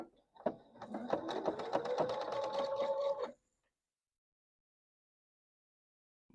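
Sewing machine stitching a seam while quilt block pieces are lined up, a steady close rapid whir with rhythmic needle clatter for about three seconds, then it stops, leaving silence.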